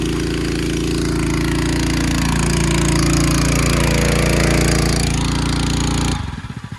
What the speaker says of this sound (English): That's full pump flow rate.